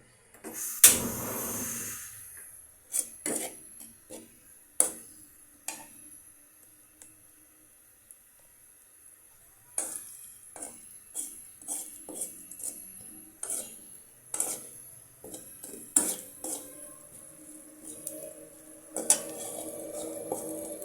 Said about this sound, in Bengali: তারপরে আমি এটাকে এখন কষিয়ে নেব ভালো করে